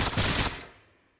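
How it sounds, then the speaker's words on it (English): Gunfire effect as Drake marksmen open fire on a Havoc chariot in a tabletop fantasy battle game: a loud, dense rattling volley for half a second, then a long echoing decay fading to silence. "The Drake marksmen open fire on the same Havoc chariot."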